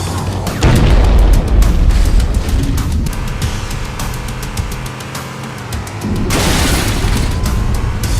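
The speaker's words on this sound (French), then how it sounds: "À 0, les moteurs exploseront." A spaceship's engines explode in a Halo video game cutscene, a loud, sustained rumbling blast with deep booms, easing briefly, then surging again into a dense roaring wash.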